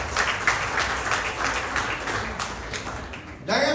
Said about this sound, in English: let's clap it up for everybody that did one time